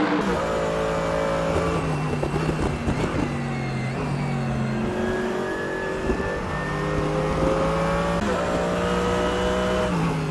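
Race cars in a sim racing event at Portimao, including a Mobile 1 Mercedes and BMW M6s, their engines droning and shifting through gears in a continuous, sustained whine with repeated upshifts and passing cars.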